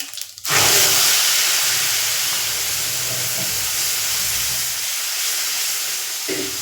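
Spice tempering hits hot mustard oil in a kadai, bursting into a loud, dense, continuous sizzling hiss that stays strong and close throughout.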